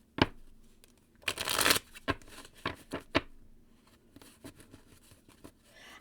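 Hands shuffling a deck of tarot cards, a brief rushing riffle amid a series of crisp snapping flicks and taps, close and fairly quiet.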